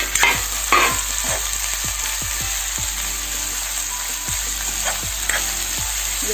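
Garlic, ginger and onion sizzle steadily in hot oil in a pan, with a continuous frying hiss and repeated soft stirring knocks from a utensil scraping the pan, close and clear, no talking.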